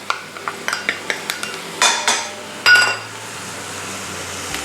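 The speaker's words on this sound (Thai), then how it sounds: "หลังจากนั้นผมก็จะใส่เจ้าตัวพริกยักษ์ลงไป แล้วก็พริกชี้ฟ้าแดง ใส่ลงไปฮะ" Giant chilies and red spur chilies going into a wok, with a quick run of metallic clinks and scrapes, then louder clattering tosses over a faint sizzle.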